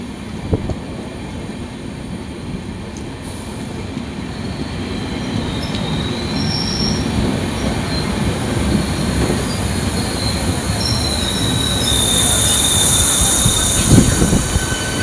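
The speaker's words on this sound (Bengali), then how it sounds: "ট্রেন ছেড়ে দিচ্ছে এখন" The Howrah–Digha Tamralipta Express departs a station, rumbling steadily with rolling wheel noise and high metallic squeals, growing slightly louder toward the end; no voices.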